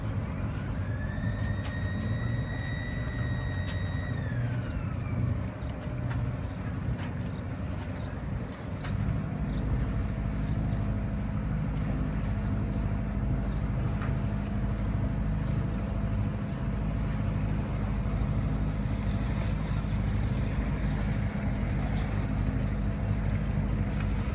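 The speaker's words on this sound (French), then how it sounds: "Et on croise d'autres bateaux." Boat engines rumble steadily over wind and lapping water at the Lefkas floating bridge, with a brief rising and falling horn-like tone early on as vessels pass in a narrow channel.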